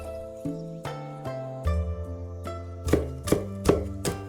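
A knife chops garlic on a cutting board, about a dozen crisp, ringing strikes that come irregularly at first and then quicken, close and clear with no talk.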